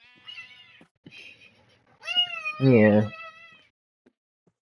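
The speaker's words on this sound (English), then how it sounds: "Yeah, you meowing at me." A cat meows several times, short calls followed by a longer, louder drawn-out meow, close by, with a brief spoken word among them.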